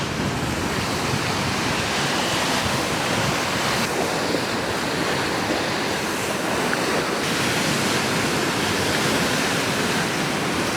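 Waves roll onto a beach on the Kent coast between Reculver and Birchington-on-Sea as a continuous loud surf roar, with wind buffeting the microphone and no voices.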